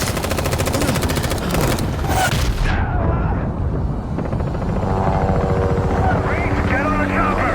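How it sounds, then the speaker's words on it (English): Helicopter rotor thudding through loud bursts of machine-gun fire and booms in an action trailer or video game, dense and continuous, with shouted voices mixed in. "Get on the chopper!"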